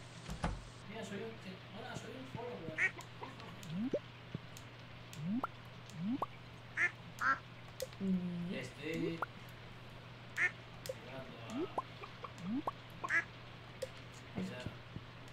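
Ducks in the farming game Stardew Valley give repeated short quacks in an irregular rhythm, mixed with soft watery drips and squishy game effects, while a person talks over them.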